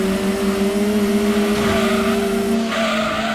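A Mazda RX-7 rotary engine in the Gran Turismo 2 racing game, holding a steady high engine whine with tire squeal layered over it and a brief shift in tone near the end.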